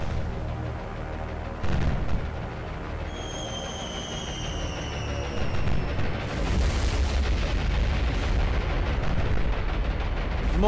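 Naval artillery fire hitting a battleship in the video game War on the Sea, a loud continuous roar of booming shell impacts and rumbling explosions with a high whistling tone partway through, with no voices heard.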